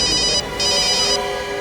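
A mobile phone ringtone chimes in two bright electronic bursts with a short gap between them, loud and close, with no one talking.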